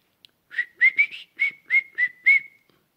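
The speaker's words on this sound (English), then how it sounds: "Can you whistle?" A person whistles a quick run of about eight short, bright notes in an uneven rhythm, close and clear against near silence.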